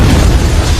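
A heavy explosion at a prison in a film rumbles with a deep, loud boom that sustains throughout, dense low-end energy rolling without a pause.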